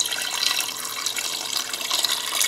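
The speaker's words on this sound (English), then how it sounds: "I'm gonna go ahead and pour in the vinegar." Vinegar, a full cup, poured into a pot for dyeing gives a steady, close liquid splash and gurgle that runs without break throughout.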